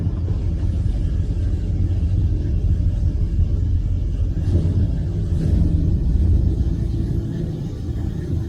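A 1974 Dodge Charger V8 idles steadily after firing up, a deep continuous rumble with a slight rise in revs partway through, loud and close with no talking.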